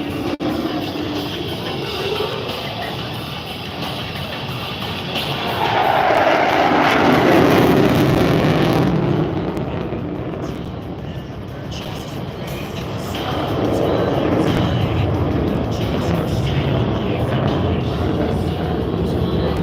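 An F-35B fighter jet roars past at an air show with a broad engine rumble that swells, fades and swells again as it turns at a distance.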